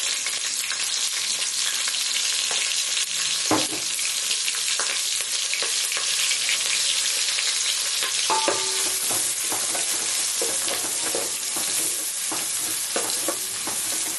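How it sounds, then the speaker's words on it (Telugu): Green chilies and onions fry in a little oil for sambar, a loud, continuous sizzle with occasional stirring scrapes and no talking. "ఆయిల్ వేసేసుకొని, సాంబార్ కదా ఆయిల్ తక్కువే పడుతుంది. పచ్చిమిర్చి వేసానండి, కొంచెం ఆనియన్స్"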